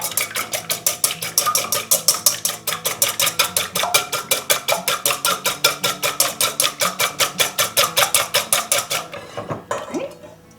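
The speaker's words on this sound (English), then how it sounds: "We'll give these a quick whisking." Eggs and other ingredients are whisked quickly in a bowl, with rapid, evenly spaced metallic clinks close by for about nine seconds, then a few slower scrapes.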